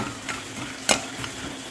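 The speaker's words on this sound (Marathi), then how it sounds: "काजू बदाम आपण फ्राय करून घ्यायचे आहेत" Cashews and almonds fry in hot ghee in a pan on low heat, with a steady faint sizzle under a couple of soft stirring scrapes and one sharper clink. No one talks.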